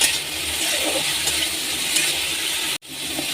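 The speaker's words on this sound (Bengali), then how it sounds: "এটা বেশ লাল লাল করে একটু ভাজা হবে" Potato and onion frying in a pan make a steady, close sizzle that runs throughout, with a brief cut near the end before the sizzle resumes.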